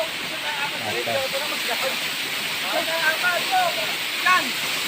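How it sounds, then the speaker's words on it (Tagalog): Labi Falls waterfall pours with a steady, loud broadband rush that runs throughout, while people talk intermittently over it. "pag gusto niyo pong maigi kung gaano kaganda yung falls po na yan"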